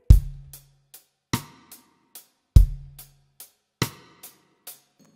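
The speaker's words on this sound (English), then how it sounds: "the first three bars is using the stick click" Drum sticks click on a snare rim for a beat, a sharp click recurring in a steady pattern, with deeper hits ringing out about every 1.2 seconds and lighter ticks between, close and alone.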